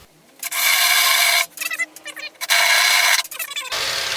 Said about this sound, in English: I've got a 3/4 inch spade bit here, and that's what we're going to drill these holes with.